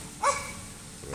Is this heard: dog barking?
yes